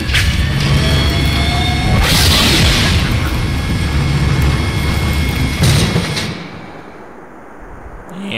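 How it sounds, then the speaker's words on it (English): A cannon fires in Borderlands 2, two loud, heavy booms a few seconds apart over a dense rumbling game soundscape that drops away near the end. "Please fire the cannon again."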